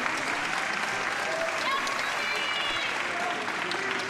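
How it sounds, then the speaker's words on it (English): Audience at the Classic Tetris World Championship applauding, a dense, continuous roar of clapping and crowd noise filling the whole stretch at a steady, loud level, with commentary voices faintly underneath. "Fans applauding Scooty for getting out of that."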